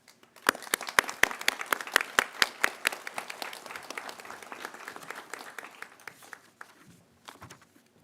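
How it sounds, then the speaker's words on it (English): Applause for award winners rises at a St. John's College Santa Fe commencement, sharp individual claps blending into a moderate crowd clapping that tapers off toward the end. "And now we're going to give another round of applause to all of our award winners"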